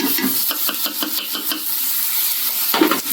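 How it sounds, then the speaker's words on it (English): Food sizzles steadily in a hot pan, with a rhythmic series of stirring scrapes up close. "Again, we're sauteing, we're not frying."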